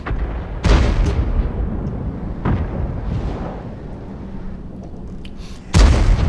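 Artillery in the tank game World of Tanks fires with heavy booming blasts, three loud shots spaced a few seconds apart over a continuous rumbling battle background, with no talking.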